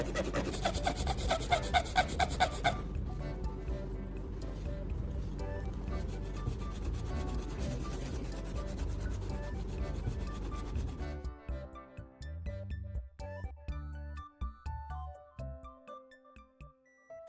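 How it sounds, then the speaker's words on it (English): Sandpaper smoothing the cut edges of plastic, with close, steady back-and-forth rubbing strokes that later break into shorter, separate scrapes. "Next, I use sandpaper to smooth the cut edges of the plastic so the surface becomes cleaner"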